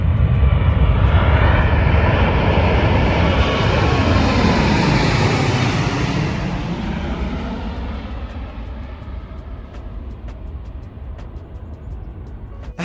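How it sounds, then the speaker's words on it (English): A Boeing 747 passes low overhead at the end of a runway, a loud, powerful jet engine roar that swells and then slowly fades as it moves away, with no talk. "we had to stop at the end of the runway and watch the 747 fly right over us."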